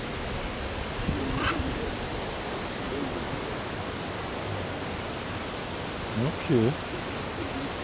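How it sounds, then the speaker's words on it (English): Steady broadband rush of the Duden waterfall in Antalya, Turkey, a continuous roar of falling water filling the scene, with a brief spoken word and a couple of short voice fragments over it. "Duden waterfall."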